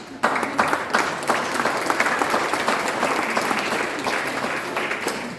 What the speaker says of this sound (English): I'd like a round of applause for Councillor Chuka.